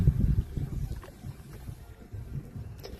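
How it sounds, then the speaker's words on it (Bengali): Wind rushes over the water of the Alaka river at Amghata in cold weather, a rumbling low gust that buffets the microphone loudest at the start and then eases to a steadier breeze. "হাওয়া, জলের হাওয়া।"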